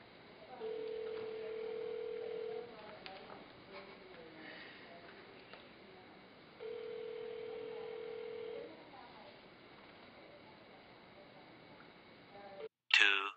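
A telephone rings unanswered over a speakerphone during a prank call to a fast food place, two long steady rings several seconds apart over a faint hiss, with a brief noise at the end.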